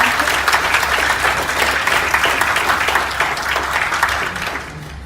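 Audience applause welcoming a guest at a Korean business partnership event, a steady dense clapping from a sizable crowd lasting throughout, loud and continuous without speech.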